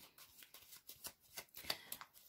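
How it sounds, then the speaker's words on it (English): Tarot cards are shuffled by hand in a quick run of soft, papery riffles and slides, close and quiet, with no voice over them. "So I'm going to give them a little bit of a shuffle."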